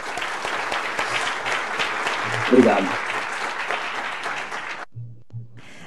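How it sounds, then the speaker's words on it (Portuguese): Steady applause from a seminar audience on geospatial transmission management, dense and sustained for about five seconds before cutting off, with someone briefly speaking a word of thanks at the end. "por favor, aplausos ao Alessandro"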